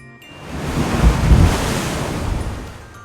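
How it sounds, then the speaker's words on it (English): Ocean waves at a beach, a single broad surge of surf that swells, crests loudly, and recedes, with windy rumble and no voices. "Like water waves at the beach?"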